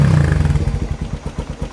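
A motorcycle engine idles while warming up, a bassy exhaust thrumming with a rapid, even pulsing beat, loud and close.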